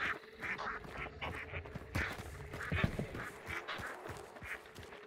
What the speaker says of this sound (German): Diese Enten.